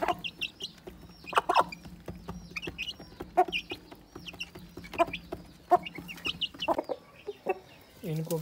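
White hens cluck repeatedly in short bursts, close by, with a steady low hum underneath and other bird calls scattered through.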